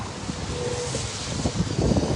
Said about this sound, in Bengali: আর সেই সাথে বাতাস হচ্ছে বাতাসটাও অনেক ঠান্ডা